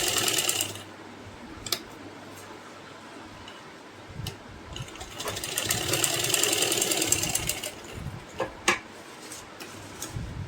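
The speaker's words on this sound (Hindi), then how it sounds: "सेम सिलाई हम इधर की साइड भी लगाएंगे।" A sewing machine runs stitching fabric for a layered baby frock, giving a quiet rapid mechanical ticking whirr that picks up in the middle, with several sharp clicks and taps around it and no talking.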